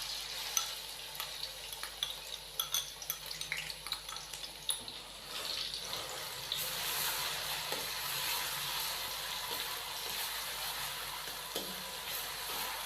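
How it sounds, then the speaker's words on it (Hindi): Chopped onions hit hot oil in a pan while a fish salan is cooked, giving a steady bright sizzle with occasional stirring clicks and scrapes, moderately close and without speech. "तो माशाल्लाह से ऑयल हमारा गर्म हो चुका है। अभी हम इसके अंदर चॉप की हुई प्याज शामिल कर देंगे।"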